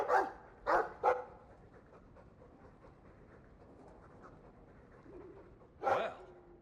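Dog barking in the Dragon Age 2 video game, a few loud close woofs in a quick cluster at the start, then quieter panting and faint game ambience before one more bark near the end.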